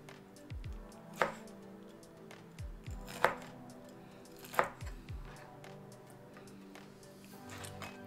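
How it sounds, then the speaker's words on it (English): A knife chops a cleaned pork hock into small pieces on a board for Vietnamese pork aspic, with three sharp, distinct cuts spaced about a second apart amid quieter handling thuds, close and clear. "cut the hock into bite-sized pieces, about 2 to 3 centimeters."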